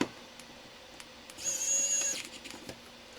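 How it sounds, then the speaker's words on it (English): A short, faint whine from a small driver fastening the bottom panel screws of a Beelink EQR6 mini PC, lasting under a second amid quiet room noise. "So as soon as I've screwed this bottom one back down,"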